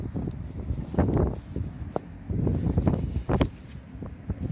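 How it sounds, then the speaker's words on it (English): Strong wind buffets the microphone in loud, rumbling gusts that swell and drop irregularly, with brief quieter gaps between blasts. "it's going to be difficult going to prop the door open as well because it's really windy"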